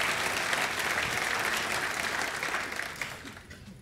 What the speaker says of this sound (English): So please round of applause for Ivo.